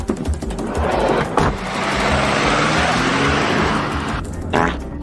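Car driving, a steady close engine and road roar that swells in the middle, with brief bursts of noise at the start and near the end.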